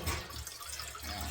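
Water is poured into a small household pot, a steady rushing, splashing wash of liquid that fills the whole moment with no talk over it.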